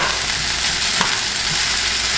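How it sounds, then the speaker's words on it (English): Cold cooked rice being stirred and broken apart in a hot frying pan for shrimp fried rice, a dense close sizzle with a spatula scraping and tapping through it, with no voices. "Just trying to break the rice apart."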